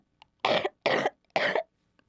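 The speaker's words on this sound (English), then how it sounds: "that sounds like a nasty cough" Three short, harsh coughs in a row, close by, with brief pauses between them and quiet otherwise.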